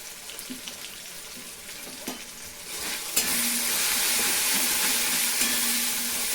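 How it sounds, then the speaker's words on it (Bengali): Spice masala with turmeric fries in plenty of oil for a jackfruit curry, with light scraping stirs at first, then a sudden louder, steady hissing sizzle as more goes into the pan, close by. "খুব ভালো করে মশলাটা কষিয়ে দিতে হবে।"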